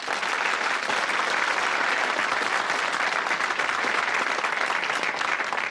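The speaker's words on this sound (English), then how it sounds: "Give them a round of applause" Studio audience applause on the 1984 British quiz show Blockbusters, a dense, uniform wash of clapping at constant volume throughout.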